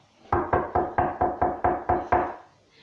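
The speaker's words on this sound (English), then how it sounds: "many of Bear's friends came knocking on his door" Eight evenly spaced knocks on a wooden door, firm, close and steady in rhythm, with nothing else heard around them.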